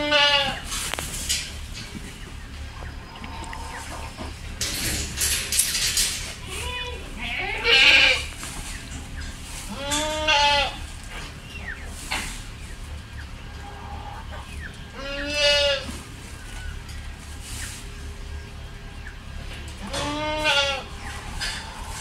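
Goats bleat in several separate, wavering cries spread across the scene, fairly close and clear over a quiet farmyard background with no talking.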